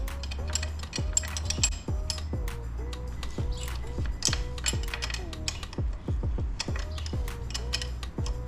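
A ratchet wrench clicks in quick bursts while loosening bolts on an SSR125 dirt bike. Each short, near ratcheting run repeats steadily across the stretch with brief pauses between strokes.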